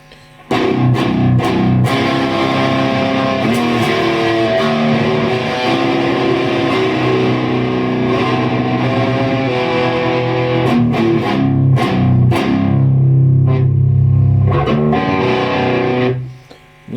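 A Godin SDXT electric guitar with a Wilkinson pickup plays through an amp's distortion channel, chords and riffs loudly and continuously, ending with a sustained ringing chord that fades out.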